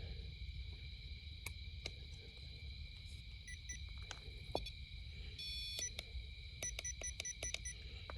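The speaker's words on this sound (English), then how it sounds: "we'll go ahead and turn on this REM pod" A REM pod paranormal detector powers on outdoors near a bridge, giving faint electronic chirps and short beeps over a constant high insect-like hum and low background rumble.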